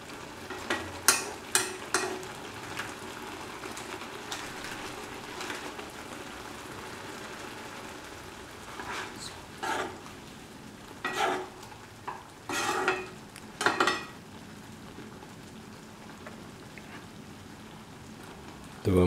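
Carrot and green lentil vermicelli pasta made of wheat is stirred in a pan over a soft cooking sizzle, with a series of scraping, clattering strokes that come in uneven clusters, mostly in the first few seconds and again in the middle.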